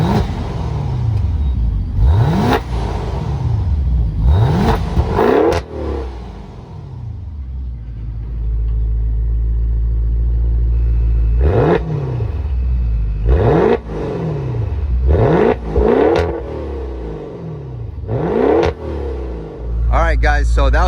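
A 2022 Maserati Levante Modena S with a 3.8-liter twin-turbo V8 revs repeatedly from idle, loud and close, each sharp rise in pitch falling back to a deep rumble between bursts.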